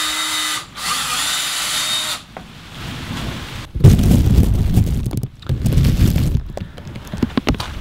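A power drill whines briefly at the start while pre-drilling holes on a tiny house, then gives way to rough, uneven bursts of grinding and knocking, close and loud.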